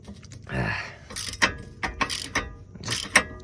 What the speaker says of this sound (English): Why am I hitting it with a size 14 wrench?